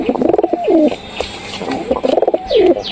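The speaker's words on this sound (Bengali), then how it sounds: "অবশ্যই চিনতে পারতেছে কবুতরগুলা" Pigeons coo nearby in two rounds of throaty, rolling calls, each a rapid pulsing burst ending in a drawn-out falling note, with light rustling in between.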